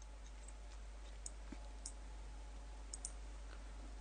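Faint, sparse mouse clicks while keyframes are set in Source Filmmaker, a few isolated sharp ticks and one quick double click over a low steady hum.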